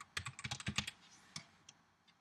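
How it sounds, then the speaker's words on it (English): Fast bursts of keystrokes on a computer keyboard, clicking in a quick uneven run and then thinning out to a few scattered taps, close and clear with no voices. "typing is awful, sorry."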